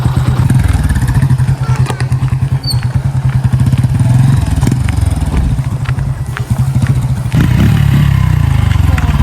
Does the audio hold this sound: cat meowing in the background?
no